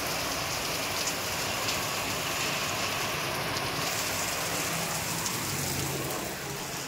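Heavy rain pours outside a home during a downpour, a dense, continuous hiss of drops drumming on surfaces, loud and unbroken with no voices.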